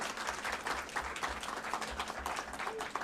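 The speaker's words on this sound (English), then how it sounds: "Let's give them another round of applause." Applause at an evening school committee meeting honoring students, a steady dense wash of many hands clapping that carries on at an even level for the whole stretch, with no talk over it.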